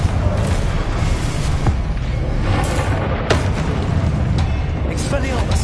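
Confringo spell explosions in the video game Hogwarts Legacy: repeated sharp booms and cracks over a dense rumbling background, with strong hits near three and a half seconds and later, loud throughout.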